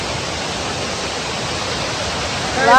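Rushing waterfall near a dam in the hills, a loud, broad, unbroken roar of falling water that swells near the end as a voice briefly cuts in.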